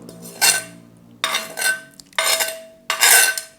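Cockle salad with noodles pounded in a very large mortar, four loud, evenly spaced thuds and clanks with short gaps of near silence between, close up and free of talk.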